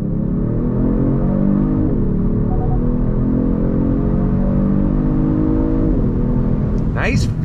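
A 2022 Genesis G70 Sport sedan accelerates on throttle, its engine drone rising steadily in pitch, dipping at a gear change and rising again, loud and close from inside the cabin.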